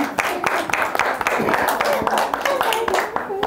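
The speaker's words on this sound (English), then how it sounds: "I can tell that you are clapping out of pity" A circus audience claps steadily throughout, a sustained round of applause close and moderately loud.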